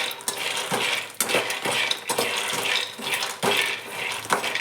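A metal spoon stirs peanuts in a pan with quick rhythmic scrapes and rattles, about a dozen close strokes in a steady back-and-forth pattern, with a faint sizzle underneath and no voices.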